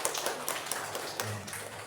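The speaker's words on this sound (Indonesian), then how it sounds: "Tepuk tangan untuk kita semua." An audience at a school program presentation for SDN 02 Wanamulya claps together, a steady, moderately distant burst of applause with no talk over it.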